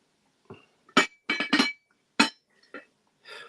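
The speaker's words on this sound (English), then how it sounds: "Everyone loves the glass noise." Glass pieces clinking together in a handful of short, sharp, bright strikes spaced irregularly, near and clear with no talking over them, during a live sale of glassware.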